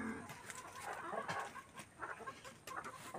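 Hens cluck softly and continuously around a farmyard nesting spot, a faint low chatter with no talking over it.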